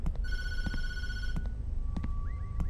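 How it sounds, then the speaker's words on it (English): In the horror game TatterTail, a telephone rings with a bright electronic trill that stops and is followed by a fainter second tone, over low rumbling ambience with a few dull thumps. "don't answer the phone. I'm not going to answer the phone, trust me"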